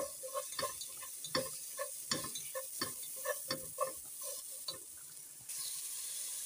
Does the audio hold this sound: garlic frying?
yes